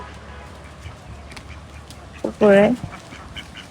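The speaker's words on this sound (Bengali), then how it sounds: "কতগুলা হাঁস" A flock of ducks at play gives one loud, close quack partway through, with a few softer calls and brief talk over steady background noise.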